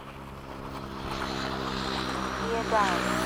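A Freewing 80mm MiG-21 or 90mm F-15 RC jet sweeps in to land with a steady, rising turbine whine and roar that grows louder and closer, while people talk nearby.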